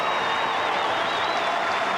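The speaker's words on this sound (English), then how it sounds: "they're going to cheer him off" Crowd at a 1997 AFL football match between Hawthorn and West Coast Eagles cheering and applauding a retiring player off the field, a dense, steady roar of applause and voices with no break.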